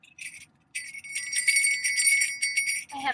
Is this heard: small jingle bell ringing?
yes